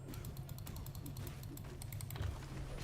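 Faint, rapid clicking of a computer mouse sitting right beneath the microphone during a Marvel Contest of Champions gaming session, a steady scatter of small sharp ticks over low background hum.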